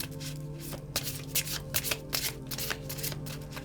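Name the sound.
shuffling tarot cards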